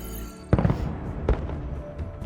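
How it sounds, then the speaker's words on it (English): Fireworks bursting in Horizon Forbidden West, two loud booming bursts with crackling tails over a low background score, fairly close and prominent. "Oh, fireworks!"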